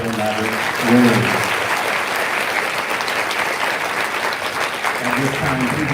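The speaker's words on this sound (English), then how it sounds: "A round of applause for all of our Project Maverick winners." Loud, sustained audience applause for Project Maverick winners at a Class of 2022 senior awards ceremony, a thick roar of clapping with a speaking voice briefly audible over it near the start and again toward the end.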